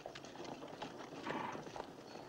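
Horses at a stagecoach station, with teams being changed, make faint, uneven clip-clop of hooves on the ground, quiet and continuous.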